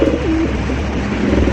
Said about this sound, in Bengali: নটটা কিন্তু মানে প্রচুর পরিমাণে ডাকাডাকি করে